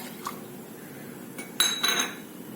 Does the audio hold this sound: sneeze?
no